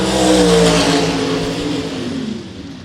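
Gasser drag racing cars at Mt. Olive Dragway roaring hard as they accelerate down the strip, a loud close engine howl that rises in pitch and then fades into the distance.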